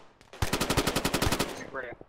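Rapid automatic gunfire from a milsim operation, a steady burst of evenly spaced shots lasting well over a second, loud and close, trailing off into a faint voice at the end.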